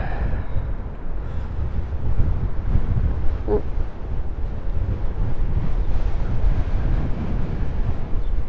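Wind buffets a handheld microphone on a ride along the Toronto waterfront toward Mississauga, a steady low roar that fills the whole stretch with no voices.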